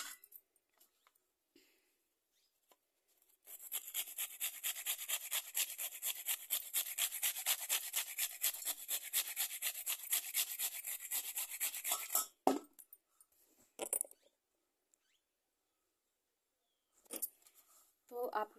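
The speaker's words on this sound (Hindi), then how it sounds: "ऐसे ऐसे करके हम पूरा इसको घिस लेंगे, इतना महीन बारीक एकदम घिस रहे हैं।" Dried coconut is grated by hand into fine shreds, making a fast, steady rasping rub that runs continuously for about nine seconds, close up. Quieter scrapes and handling noises follow.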